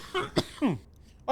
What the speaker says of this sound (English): I coughed then.